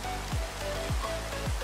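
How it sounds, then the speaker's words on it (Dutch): Steady video-game rainfall in Minecraft hisses throughout, with a few low, falling whooshes recurring about every half second underneath it. "Oh nee, het regent."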